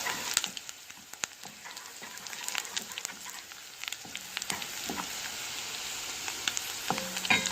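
Seasoned food frying in butter in a pan, a steady soft sizzle with scattered sharp crackles and pops running throughout, close and moderately quiet.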